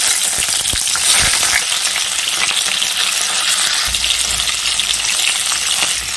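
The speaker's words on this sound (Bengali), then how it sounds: "তেলটা গরম হয়েছে, এখন করলাগুলি দিয়ে দেব।" Bitter gourd pieces fry in hot oil with a loud, dense, continuous sizzle close up, with a few louder spatters and stirring knocks.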